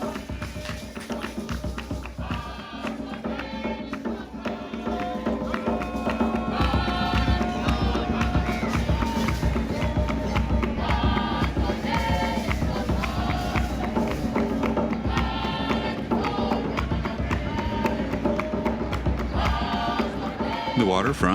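Evening crowds fill a waterfront walkway near street dancers, a loud, dense wash of voices with rhythmic chanting and music-like energy that swells after the first few seconds.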